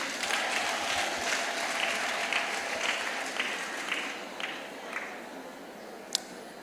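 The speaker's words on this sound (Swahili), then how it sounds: "Pigeni makofi." A live audience applauds steadily, a dense wash of many hands clapping at a constant level that thins slightly toward the end, with one sharp single clap near the close.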